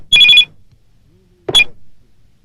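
A telephone gives two short, loud bursts of bell-like ringing separated by a second of near silence, heard up close in a quiet home with no voices.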